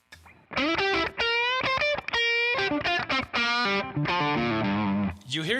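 A distorted electric guitar played through an overdrive pedal, bridge pickup, plays a run of sustained, harmonically rich notes and chords with a gritty overdriven edge, loud and close.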